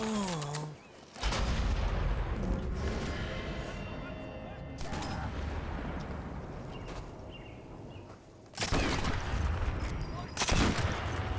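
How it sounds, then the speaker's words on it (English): Gunfire in the video game Sniper Elite 4 bursts in heavy, rolling volleys and sharp cracks with dense rumbling tails, loud and close, filling most of the stretch with brief dips between blasts. "They just heard the gunshot."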